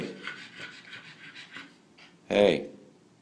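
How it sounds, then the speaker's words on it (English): A pug breathes in quick, rhythmic, raspy pants close to the microphone, followed by a louder, sharp burst of sound near the end. "He can't hear over his own breathing."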